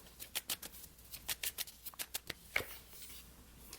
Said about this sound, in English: I'm just going to be pulling an oracle card first, as usual.